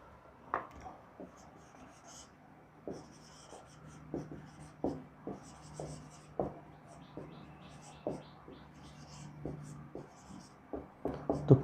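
Chalk or marker writing on a board during a geometry proof lesson, a steady series of sharp taps and short scratchy strokes, fairly close and moderately quiet with no talking.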